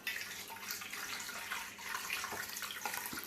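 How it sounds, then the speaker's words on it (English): Hot water pours steadily into a pot for boiling a large ham in a home kitchen, making a continuous, fairly quiet splashing rush with no talking over it. "now I'm going to put this hot water into here"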